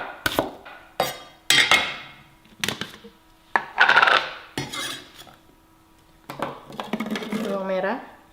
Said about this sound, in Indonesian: Sekarang kita potong-potong dulu bawangnya ya, buat masukin ke blender.